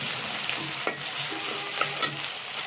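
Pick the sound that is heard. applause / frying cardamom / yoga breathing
frying cardamom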